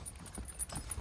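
Hooves of a young Belgian draft horse walk during early line-driving training, with several soft, quiet clopping footfalls in an even gait and no talking.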